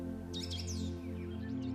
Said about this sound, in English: the air is thick with birdsong and filtered sunlight